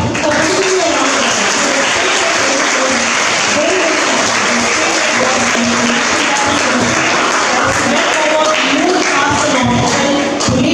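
A school audience at an English Day celebration bursts into loud, dense applause that holds steady for about ten seconds, with cheering voices mixed into the continuous clapping.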